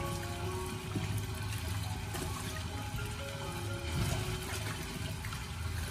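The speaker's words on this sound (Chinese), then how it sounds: "我们将鸡里里外外清洗干净以后，紧接着再重新的添加清水" Tap water runs steadily over a whole raw chicken being rinsed in a kitchen, a constant splashing wash with faint clinks, close by and with no talking.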